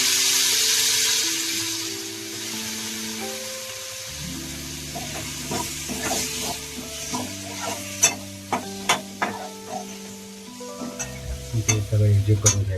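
Spices and potato sautéing on low gas for a Konkan cashew-seed vegetable dish, with a steady soft sizzle, repeated spoon stirring and scraping against the pan, and louder clinks toward the end.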